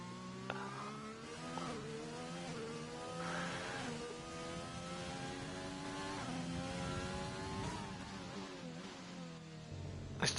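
Race car engine crossing the finish line in a racing video game at the Brazil circuit, wet track: steady high-pitched revving with rising and falling harmonics across gear changes, loud and continuous, sustained from start to end with no talk.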